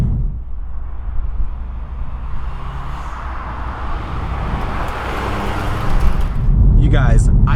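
A 2020 Subaru STI S209 sweeps through a corner, its engine and road roar building steadily from inside the cabin and swelling louder near the end, with a voice speaking over it.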